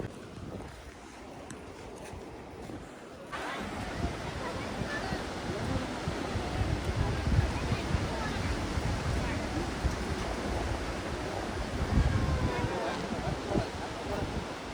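Rumbling wind and sea waves roar close by after a quieter start, a steady wash of waves breaking against rocks on the Konkan coast at Harihareshwar.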